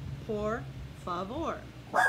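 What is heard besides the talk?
dog barking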